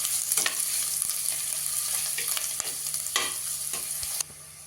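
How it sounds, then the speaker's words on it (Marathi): Onion sautéing in a pan for a carrot, beetroot and tomato soup: a steady, close sizzle with a spoon scraping and stirring at intervals, and no voices. "कांदा थोडासा परतून घ्यायचा आहे आपल्याला, लाल करायचं नाहीये पण परतून घ्यायचा आहे।"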